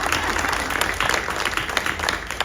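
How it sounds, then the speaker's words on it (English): An indoor audience applauds, a dense patter of many hands clapping steadily at moderate loudness without a break. "We can clap."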